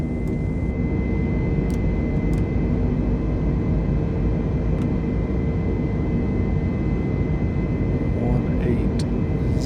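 Airliner jet engines roar at climb thrust in Microsoft Flight Simulator 2020, a steady, dense, unbroken rumble throughout.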